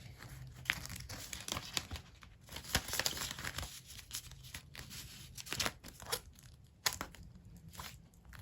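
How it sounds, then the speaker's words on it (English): Paper cash envelopes are pulled from a budgeting binder, giving close, quiet crinkling and rustling in irregular bursts, with several sharper paper crackles and no talking. "So pulling out the envelopes from my binder"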